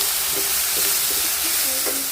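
Ginger garlic paste frying with onions in a pan for a Tamil egg rice dinner, a steady loud sizzle with intermittent stirring scrapes, close up and without talk.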